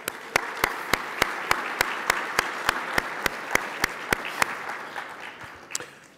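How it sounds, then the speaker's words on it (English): An audience applauds a sponsor at an aerospace lecture event, with a broad crowd clapping and one close, sharp clapper keeping an even beat over it until it thins out near the end. "So if we could please give them a round of applause."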